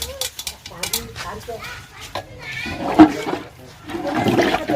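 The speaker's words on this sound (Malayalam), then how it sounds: "ഒരു ചട്ടി വെള്ളം ഒഴിച്ചിട്ടുണ്ട്" Water splashes and pours into a cooking pot for a couple of seconds, with talking before and a softer rushing pour near the end.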